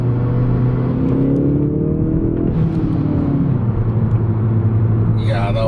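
A car fitted with a Greddy cat-back exhaust holds high RPM, giving a loud, sustained droning exhaust note with a shifting engine pitch throughout and a brief whir near the end.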